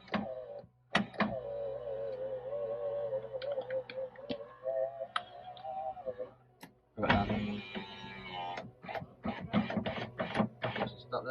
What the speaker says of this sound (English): It's probably just a weak motor.